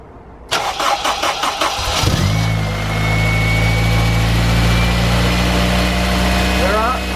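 A Honda Civic EP3 Type R engine on a stand cranks with a rapid rhythmic starter whir, catches after about two seconds, then settles into a steady, close, loud idle after a rocker cover change.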